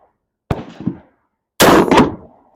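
Two loud, close blasts from a 12 gauge shotgun firing rifled slugs slow fire, each sharp crack followed by a short echoing tail, the second longer and heavier, with silence between.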